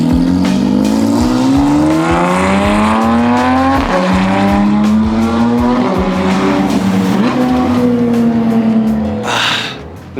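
A Porsche 992 GT3 fitted with a valved stainless exhaust revs hard and loud, its pitch sweeping up and down in several long pulls before dropping off near the end.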